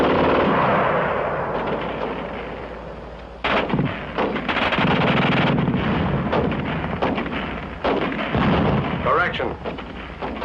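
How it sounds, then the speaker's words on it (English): A German machine gun rattles off fast bursts in a wartime setting, loud sharp reports mixed with heavy booming artillery-like blasts, repeated over several seconds. "The German gun shoots fast."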